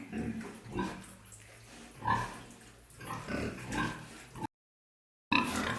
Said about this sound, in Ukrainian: Наші свинки вже підросли.